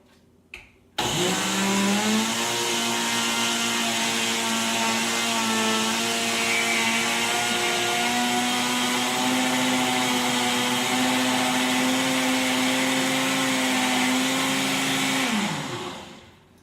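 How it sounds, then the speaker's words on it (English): A Ninja blender starts with a click and runs at a steady loud whir for about fourteen seconds while powdering ingredients, then winds down and stops. "I'm going to start in the Ninja."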